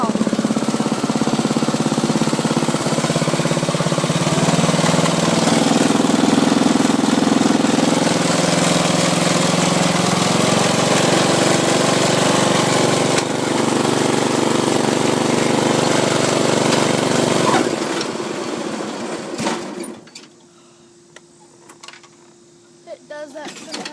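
Ariens machine engine running loud and steady with its blade engaged, a rough droning roar that holds for most of the stretch before winding down and falling away to quiet with faint knocks.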